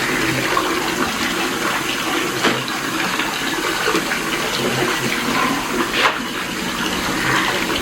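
Water pours and splashes steadily close by as washed country chicken drains, a continuous rushing drain with a couple of brief louder surges.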